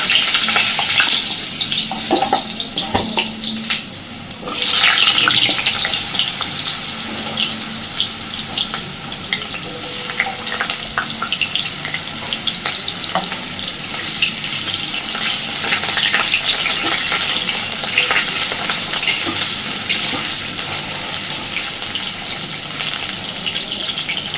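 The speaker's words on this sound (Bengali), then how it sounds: "আমি সবার আগে আলুটা ভেজে নেব সুন্দর করে" Potatoes fry in mustard oil with a loud, continuous crackling sizzle, close up, with a short lull and a few clinks and stirring sounds over roughly twenty-four seconds.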